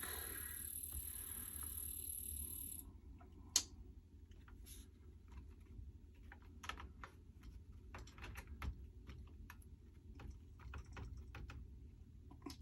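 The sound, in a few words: typing on Commodore SX-64 computer keyboard keys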